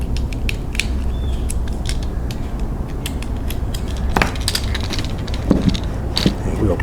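Small screw terminals on smart plug wiring are loosened with a hand tool, giving faint creaking and ratcheting clicks scattered over a steady low background hum; close, with no talking.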